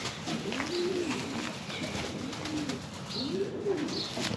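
A racing pigeon coos in a breeding loft, its low rolling calls repeating in three swelling phrases over steady loft ambience, with no one talking.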